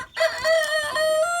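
A rooster crows loudly and close by inside a chicken coop, one long sustained call that rises and holds, with faint clucking underneath and no talking.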